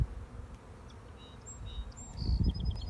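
Honey bees hum around an open eight-frame hive during an inspection with brood frames exposed, a steady low buzz with a few higher whines drifting past, swelling louder near the end.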